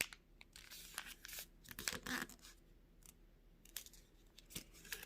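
Paper being folded for an origami heart: close, quiet crinkles and sharp creasing rustles in short bursts, with pauses between folds.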